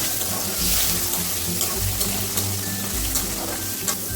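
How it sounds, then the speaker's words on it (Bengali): Chopped tomatoes tossed into Gobindobhog rice frying in a pan, a close wet sizzle with stirring scrapes and low bumps, fairly loud and steady throughout with no voices. "এখন আমরা দিয়ে দিব টমেটো কুচি।"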